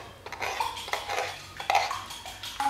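A spoon stirring coffee in a cup, with light clinks and scrapes against the ceramic at an uneven pace, close and fairly quiet over a soft room hiss.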